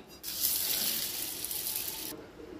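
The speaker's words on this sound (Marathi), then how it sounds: "ती आपण 2 ते 3 पाण्याने धुवून घ्यायची" Running tap water pours steadily into a bowl of mixed toor, moong and masoor dal being rinsed, a soft continuous gush that starts suddenly and stops just as abruptly.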